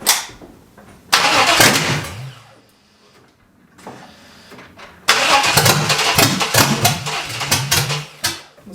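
Vortec 5.7L V8 swapped into an S10 truck cranks and catches in two loud bursts, the first stumbling out after a few seconds, then a second start that runs rough and uneven before dropping, with no talking.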